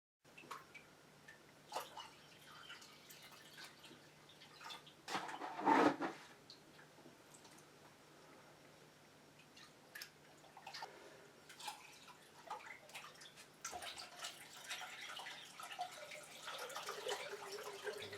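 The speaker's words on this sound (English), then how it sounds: "then placed the heater and filter in the aquarium and began to fill up the tank" Water pours into a 50 litre bedside aquarium over sand, fitted with a heater and filter, a steady soft splashing and trickling with occasional louder gushes and drips throughout.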